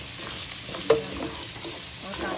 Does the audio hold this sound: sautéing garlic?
yes